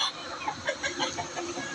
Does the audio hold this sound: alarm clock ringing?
no